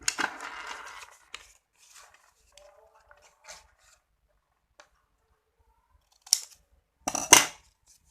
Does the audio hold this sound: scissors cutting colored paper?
yes